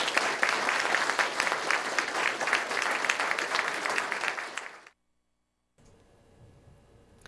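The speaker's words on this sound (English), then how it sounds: "I want to give a round of applause for the 4 new officers" Applause for four new police officers: a room of people clapping steadily for about five seconds, then an abrupt cut to near silence with faint room tone.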